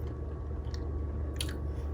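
Someone tastes a homemade Old Bay egg salad, producing soft, close chewing with a few wet, squishy bites, clearest near the end, over a low steady background hum.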